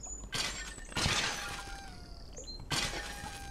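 Objects shattering in the video game Dwarrows, three separate crashing breaks, loud and close, with faint mechanical game tones between them.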